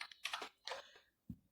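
A computer keyboard is typed on in a few short bursts of quiet, close key clicks with gaps between them. A final soft thud sounds like a heavier key.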